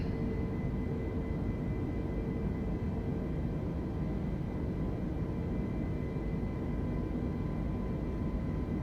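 An Airbus A320 climbs after takeoff from Denver in Microsoft Flight Simulator 2020, giving a steady, even engine drone with a faint tonal hum that holds unchanged throughout.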